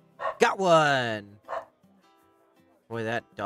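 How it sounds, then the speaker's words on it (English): A dog barks angrily and loudly nearby, a few sharp bursts with pauses between them, while people talk over a board game. "Boy, that dog is angry right now."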